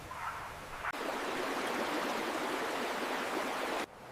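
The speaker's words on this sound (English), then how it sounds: "Water is moving across the main path, and I need to check the current before we continue." Fast-moving water crossing the main path inside a cave rushes in a steady, full roar that cuts in abruptly, holds at an even level for about three seconds, then drops away to a quieter background.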